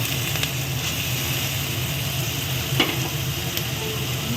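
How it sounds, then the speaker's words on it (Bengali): Spice paste sautéing in a pan with green peas added, a steady sizzle and fry with occasional scraping stirs of a spoon, close and continuous without talk. "এই যে মশলাটা কষাচ্ছি, নুন হলুদ দেবো"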